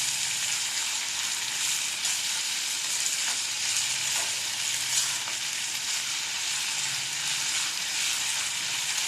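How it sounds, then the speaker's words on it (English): Potatoes and onions frying in mustard oil on an open gas flame, a loud, even hiss and crackle of sizzling that runs unbroken throughout with no voices. "You can hear the nice sizzling sound of this oil, potato, onions."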